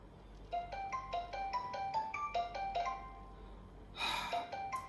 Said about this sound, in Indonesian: Gue telepon Yeri aja.